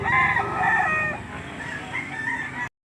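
A pumpkin sweater gamefowl rooster crows once, close and loud, its hoarse, stretched call trailing off over about two seconds.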